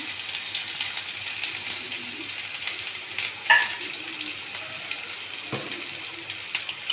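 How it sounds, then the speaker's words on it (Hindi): Onions fry in hot oil with cumin for a dal fry, giving a steady soft sizzle throughout with a brief clink of a utensil stirring the pan, no voices. "प्याज को टिके हल्का लाल हवा तक ताकि आम फ्राए करना"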